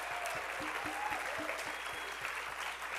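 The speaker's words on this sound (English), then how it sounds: "Give them a big round of applause." An awards-ceremony audience applauds the jury members of an international program competition, a soft, distant wash of clapping with a faint regular thump underneath.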